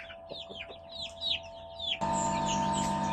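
Rhode Island Red breeder chickens and a rooster, giving a quick run of close, loud clucks and squawks, followed by a sudden shift to a denser, steady layer of overlapping calls from the flock.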